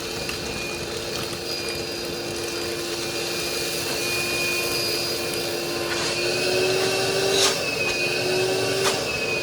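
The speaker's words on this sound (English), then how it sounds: "Okay, so I just vacuumed up that corner of insulation." A Dust Deputy shop vacuum runs steadily, sucking up insulation with a loud continuous whine and a droning motor hum.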